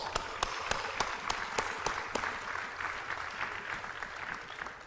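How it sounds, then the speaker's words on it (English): A live audience at a retreat anniversary session at Shanti Sarovar applauds steadily for about five seconds, a dense even patter of many hands with no talk over it. "So one huge round of applause."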